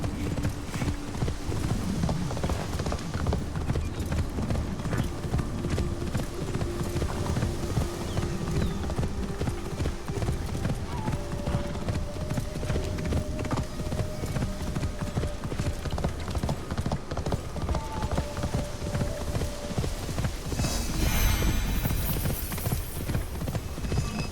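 Hooves of a horse in the video game Assassin's Creed Shadows clip-clop in a steady rhythm throughout, mixed with game ambience and a brief louder burst near the end.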